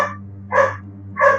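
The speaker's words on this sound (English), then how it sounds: "Sorry about the dogs barking." Dogs bark three times in quick succession near a room, sharp loud yaps spaced about half a second apart over a steady low hum.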